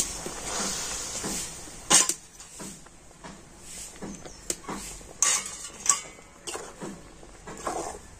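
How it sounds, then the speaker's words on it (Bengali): A spoon scrapes and clinks against a bowl as rice flour and maida are mixed with water, giving intermittent sharp taps and knocks amid soft stirring, fairly close and with no talk. "তো জলের সাথে এখন আমি চালের গুঁড়ি আর ময়দাটা খুব ভালো করে মিশিয়ে নেব।"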